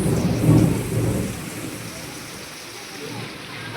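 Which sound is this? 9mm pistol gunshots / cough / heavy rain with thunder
heavy rain with thunder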